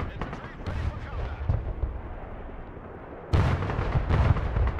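Rocket barrage in the battle game Broken Arrow, a rolling series of heavy booming explosions, dense and loud, with a sharp jump in intensity near the end.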